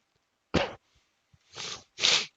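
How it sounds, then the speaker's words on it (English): Three short bursts of sniffling or snorting, one sharp burst followed by two longer breathy ones, close to the microphone with quiet gaps between them. "Apologies for the sniffles again."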